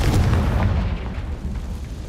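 A Confringo blasting spell explodes in Hogwarts Legacy, a heavy booming blast with deep rumble that is loudest at the start and decays slowly, with no voices.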